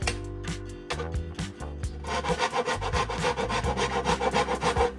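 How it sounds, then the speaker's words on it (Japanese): Solid hinoki wood boards are sanded by hand before resin is poured, steady back-and-forth rasping strokes that start slower and become faster and fuller, close and loud. "レジンを流すと後で中の部分は磨けなくなるので、このように先に磨いていきます。"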